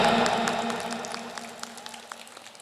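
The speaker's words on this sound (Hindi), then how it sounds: "जोरदार तालियां" Applause rises from an audience at a Ramlila event as a guest is honoured, a steady patter of many clapping hands that thins and fades to scattered claps over a low hum.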